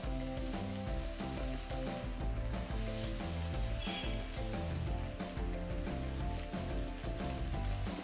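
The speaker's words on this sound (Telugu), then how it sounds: "తరిగిన ఉల్లిపాయ ముక్కలు వేసి ఎర్రగా వేయించాలి" Chopped onions frying in a pan, giving a dense, even crackling sizzle like light rain, steady and close for the whole stretch, with a steady musical hum running underneath.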